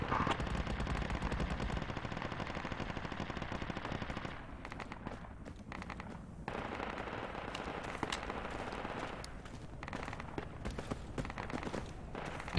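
Sustained machine-gun fire rakes enemy emplacements in the Project Reality military shooter game: rapid, loud bursts in a steady stream, with a brief lull midway before the firing resumes.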